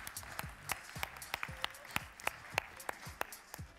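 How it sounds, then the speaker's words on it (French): Sparse audience applause after an award presentation at a prevention conference, individual claps sharply separated and moderately distant, fairly quiet and irregular over a few seconds. "Bravo, on peut les applaudir."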